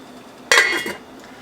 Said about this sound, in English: Put this lid on here